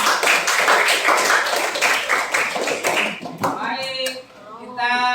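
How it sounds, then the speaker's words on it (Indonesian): A class of students claps hands together in a patterned, rhythmic burst of rapid claps, followed by people talking and chanting together. "Tepuk tangan dulu semuanya."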